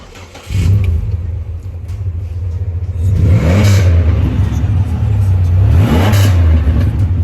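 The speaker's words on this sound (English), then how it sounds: "I'm in the Pontiac Grand Prix, okay? And I want you guys to hear the sound." A Pontiac Grand Prix engine, heard from inside the car, revs hard twice, climbing and falling in pitch over a loud steady idle, close and unaccompanied by talk.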